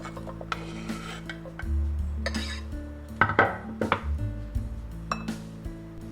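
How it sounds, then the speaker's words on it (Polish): Knife slicing cucumbers on a board in a home kitchen, a run of close, irregular knocks and clicks with light clinks of utensils, moderately loud and without talking. "kroję ogórki. I również dodaję je do sera."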